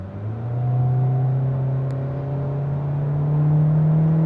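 2026 Hyundai Elantra SEL Sport accelerating in smart mode, engine drone climbing steadily in pitch as revs build, a smooth continuous whir heard from inside the cabin with no talking.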